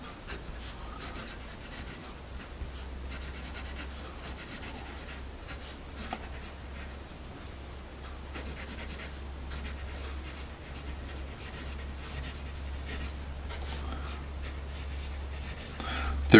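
A Dixon Ticonderoga 2HB pencil writes on paper with a soft, slightly scratchy rubbing that continues through the stretch, faint and close, with low background hum.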